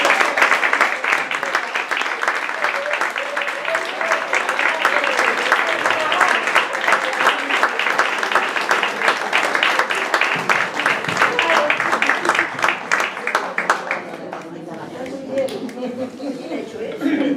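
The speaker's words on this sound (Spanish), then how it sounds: "Y pido un grandísimo aplauso para Pacita Tomás." A crowd at a poetry evening in a festival hall applauds warmly for a performer, sustained dense clapping lasting around fourteen seconds before thinning out, with voices mixed in underneath.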